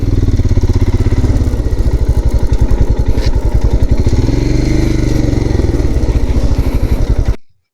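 A Royal Enfield Himalayan motorcycle idles close by near Gulmarg, Kashmir, with a loud, even thumping beat that runs steadily and then stops abruptly at the end.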